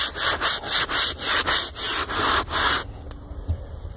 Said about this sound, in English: scrub really good, you'll see all the dirt melt away.